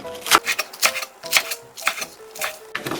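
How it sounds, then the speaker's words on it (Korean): A knife slices green onion diagonally on a cutting board with about six crisp, evenly spaced chops, close and clear, with no talk. "대파는 큼직큼직하게 어슷 썰어주세요."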